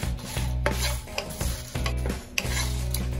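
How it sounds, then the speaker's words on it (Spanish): Dried chiles toasting in a pan are stirred and scraped in repeated strokes, close scratching rubs with a light sizzle underneath, and no voices. "Y así lo voy a estar removiendo para que evitar que se quemen"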